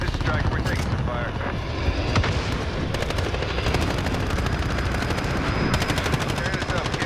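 Rapid machine-gun bursts and scattered gunshots in Call of Duty: Modern Warfare gameplay, loud and continuous with a helicopter-like drone underneath, while players talk over the fighting.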